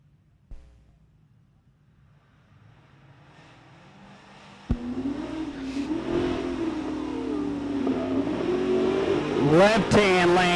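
An orange Mustang and a 2018 Hellcat launch at a no-prep drag strip, Bunker Hill Dragway, after quiet idling, with a sharp bang, then loud rising engine roar building to a screaming rev near the end.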